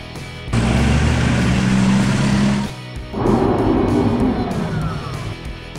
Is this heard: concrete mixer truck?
yes